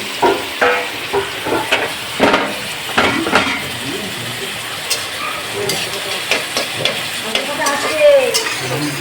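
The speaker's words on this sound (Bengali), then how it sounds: "এইভাবে কড়াইয়ে তেল দিয়ে পেঁয়াজ দিয়ে দিয়েছি সর্ষের তেলে করে দিই চিকেনটা" Chicken and onions sizzle loudly in mustard oil in a wok, close to the listener, while a spatula stirs busily with frequent scraping and clattering against the metal.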